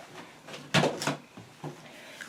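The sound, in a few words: cat playing with a box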